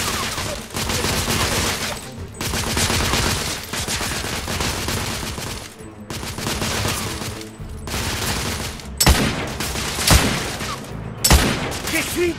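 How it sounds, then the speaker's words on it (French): Heavy, sustained gunfire in the video game The Order: 1886, dense overlapping automatic bursts and loud shots filling the scene, with brief gaps and a few sharper individual blasts near the end. "J'essuie des tirs, nourris."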